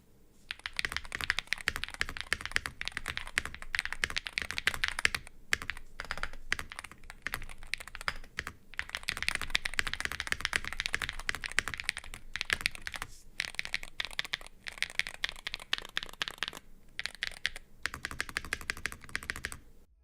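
Mechanical keyboard keys on an open-design keyboard without enclosed casing clack rapidly and continuously in bursts of typing with brief pauses, each keystroke crisp and close.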